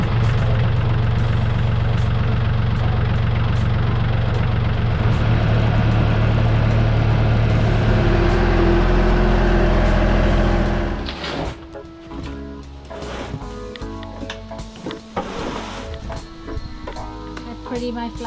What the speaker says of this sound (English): so we're going to just take it over there with the tractor